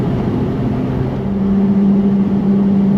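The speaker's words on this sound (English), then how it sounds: "I can't quite express how good this sounds for a V6" Ferrari 296 GTS with its V6 engine, a steady loud low drone while driving that rises slightly in pitch midway, heard from inside the car alone without talk.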